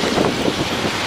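Strong hurricane wind during Hurricane Charley in August 2005, a loud, steady broadband roar buffeting the microphone throughout, with no voices.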